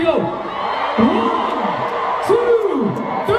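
Concert crowd at a show at Radio City Music Hall in New York, screaming and whooping in rising and falling waves, loud and close, with shouted calls mixed into the roar.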